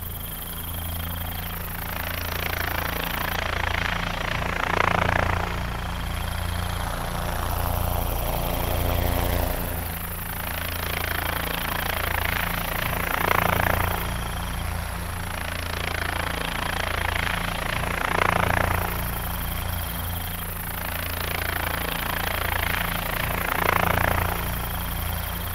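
A cartoon helicopter whirs steadily with a droning engine, its rotor noise swelling in regular surges as it keeps flying.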